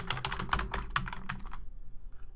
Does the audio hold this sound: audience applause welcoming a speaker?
no